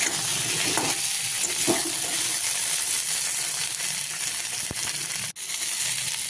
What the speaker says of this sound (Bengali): এবার আলু আর ফুলকপিগুলোকে ভালো করে ভাজবো।